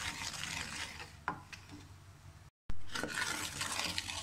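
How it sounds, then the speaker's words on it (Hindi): Gram flour roasting in a pan over low flame for besan halwa, stirred steadily with a spoon that makes a continuous dry scraping rustle close up, with a few sharper knocks and a very brief dropout partway through. "इसको आपने बिल्कुल हल्की आंच पर भूनना है ताकि हमारा बेसन जो है वो जल न जाए"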